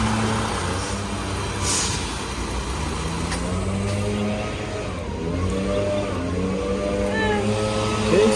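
A 2022 Ram 1500 V6 eTorque engine runs close by and rises and falls as it is revved a couple of times, with a voice speaking over it.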